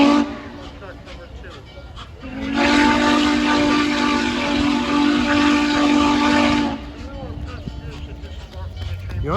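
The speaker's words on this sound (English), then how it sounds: "The unmistakable steamboat type whistle of the 611." Norfolk and Western Class J steam locomotive 611 sounds a long, deep, chime-like steamboat whistle for several seconds on the Strasburg Railroad, loud and rich, with people talking before and after and train noise beneath.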